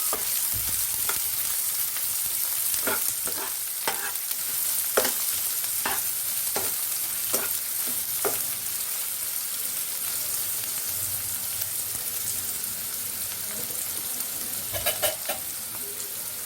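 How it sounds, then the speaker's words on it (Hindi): Chopped onions fry gently in oil in a pan for prawn biryani, a soft continuous sizzle broken by a series of sharp scraping clicks as a spoon stirs them, no voices. "प्याज को आम ब्राउन कलर होगा पर्यंत फ्राए करवा"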